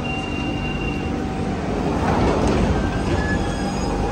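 Rumbling London Underground train running steadily close by in a station, with rail noise and a faint squeal throughout and no talk.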